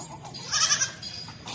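A goat at a Pakistani livestock market lets out a single bleat, near and moderately loud, over faint background murmur.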